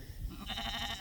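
A sheep in a grazing pasture gives one close, wavering bleat in the second half, following a stretch of low outdoor noise.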